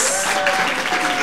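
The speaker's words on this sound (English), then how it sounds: "another round of applause for that beautiful piece." Steady applause from an audience at an immigrant storytelling event, a dense wash of clapping that holds at an even level throughout.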